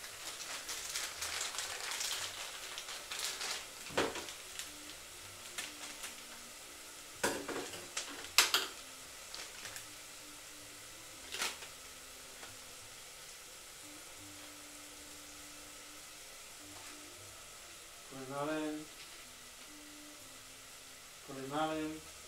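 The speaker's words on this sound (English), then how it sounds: "And then fry for a further minute." Curry powder and spices sizzle in a pan for a sweet potato curry, a soft, steady frying hiss close by, with a few utensil clinks and stirring scrapes.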